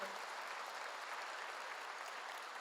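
A church congregation applauds during a Korean sermon, steady even clapping throughout, fairly distant and soft but filling the room.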